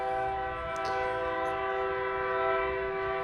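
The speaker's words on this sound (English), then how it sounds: "And we have a train." A train passing near a fabrication shop sounds a long, steady horn with layered sustained tones and a rumbling undertone throughout, fairly distant and without talk.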